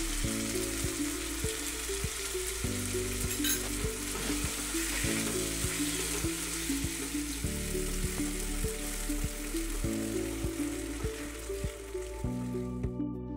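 Biryani masala sizzles loudly as two to three tablespoons of curd go in and get stirred, a dense continuous frying hiss with soft scraping throughout, while steady background music plays.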